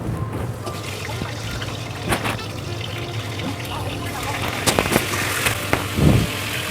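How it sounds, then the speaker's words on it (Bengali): Crabs are washed by hand under running water, giving a steady trickle and splash, with clattering and handling noises that grow near the end. "ভালো করে ধুয়ে নিতে হবে কাঁকড়াটাকে।"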